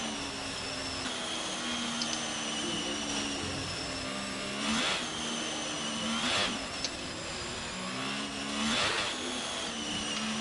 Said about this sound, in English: I'm trying to wheel spin to fucking keep tyres hot